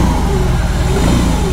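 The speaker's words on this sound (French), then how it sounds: "On sent la moto qui fait gauche-droite, là, parce que les cylindres se mettent en marche." A BMW R18 Bagger motorcycle's 1800 cc two-cylinder engine runs with a steady, close, deep rumble and no break or voices.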